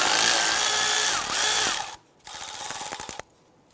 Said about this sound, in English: Using a 12mm socket, I'm going to go ahead and remove the bolt holding the flex line to the strut.